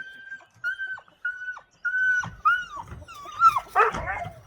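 Dogs at an old farmhouse give repeated high whining yelps and whimpers that break into louder excited barks, heard close by with faint background noise.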